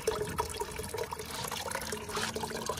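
Gray water from a camper van kitchen sink draining steadily through the plumbing, a continuous close gurgling and trickling flow with no talking.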